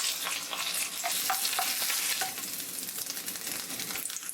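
Egg frying in bacon oil crackles and sizzles steadily in a pan, with scattered bright pops and some scraping of a utensil, close and continuous without talk.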